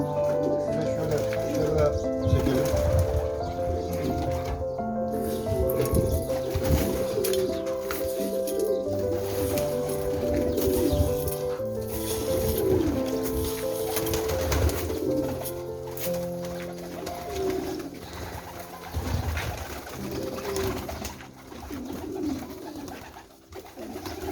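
Pigeons, including Bursa pigeons, coo continuously in a close chorus, their soft throaty calls overlapping throughout, with rustling and a voice now and then underneath.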